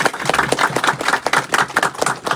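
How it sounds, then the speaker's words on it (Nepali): A church congregation applauds at the opening ceremony of a church building, brisk, dense clapping from many hands that runs steadily throughout, fairly close and lively. "सबैजनाले ताली बजाइदिनु।"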